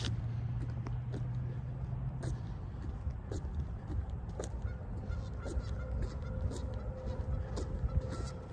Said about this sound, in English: there's a mess load of geese out there